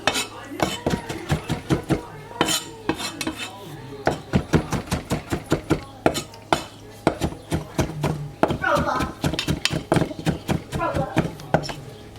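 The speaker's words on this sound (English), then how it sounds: "Didn't want to use a knife today because since I'm chopping" Rapid, heavy cleaver chopping thuds strike a board in quick irregular bursts, close and loud, with some clattering of utensils between strokes.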